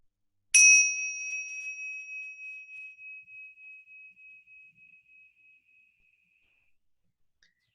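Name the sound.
single bell ringing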